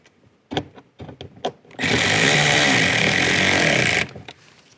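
A power tool drives screws into a 2010-2016 Buick LaCrosse sideview mirror cover, one loud close burst of whirring lasting about two seconds, preceded by a few sharp clicks and taps of handling.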